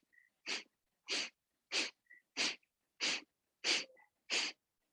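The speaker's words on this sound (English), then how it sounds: "we'll start our Kapalabhati breathing again. Sharp, quick exhales through the nose" Kapalabhati yoga breathing, seven sharp, quick exhales forced through the nose in an even rhythm about one every two-thirds of a second, close and crisp with silence between.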